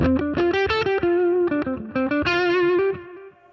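A distorted electric guitar plays a short lead phrase through a delay pedal used as reverb, each note trailed by echoing repeats that smear into a reverb-like wash before fading out.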